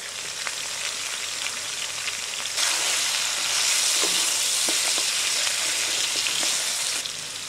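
Pickle-spice masala for achar gosht frying in a pan makes a steady, low sizzle that suddenly swells into a louder, brighter crackle for several seconds, with light tapping stirs, before dropping back down.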